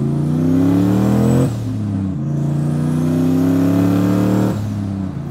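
A single-turbo 1999 Ford Mustang GT V8 revs hard and loud up close, climbing through two strong accelerating pulls with a brief drop between them and a turbo whistle riding on top.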